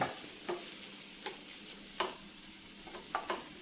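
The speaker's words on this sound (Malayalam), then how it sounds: "ഇത് നമ്മൾ ഇടയ്ക്ക് ഇളക്കിക്കൊണ്ടിരിക്കണം" A spoon stirs okra thoran frying in a pan with crushed coconut and Kashmiri chili powder. Soft, steady sizzling is broken by a few distinct scraping stirs, close and fairly quiet, with no talking.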